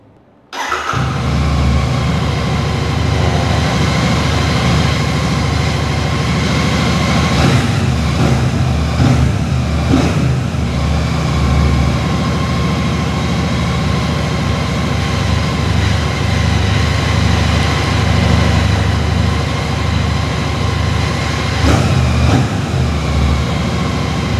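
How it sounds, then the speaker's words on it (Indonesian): A Royal Enfield twin-cylinder motorcycle engine starts up and settles into a loud, steady idle with a deep throbbing rumble, running close by for over twenty seconds. "Kita coba nyalain, kayak gimana suaranya?"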